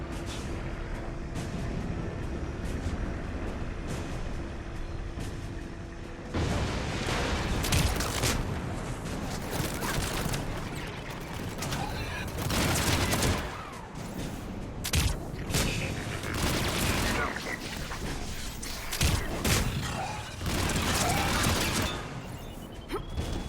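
Thanix missiles and gunfire rage in a Mass Effect 3 battle, with repeated bursts of heavy fire, booming impacts and crashes over a loud, dense combat din.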